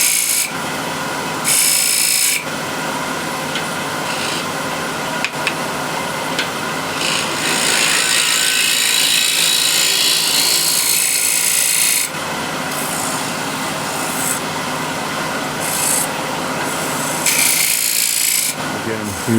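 Offcut wood spins on a lathe while a skew chisel shears across it in steady scraping, hissing passes broken by short pauses, close and fairly loud, with no talk.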